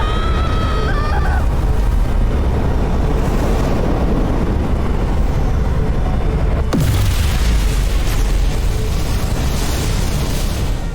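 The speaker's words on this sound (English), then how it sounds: "Dilithium explosion!" A dilithium explosion in the video game Star Trek Resurgence goes off as a single loud, deep boom with a sudden burst partway through, set within a constant loud rumbling game soundscape.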